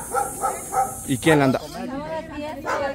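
A dog at a family home barks in a few short bursts, close by, mixed with people talking in Spanish over it.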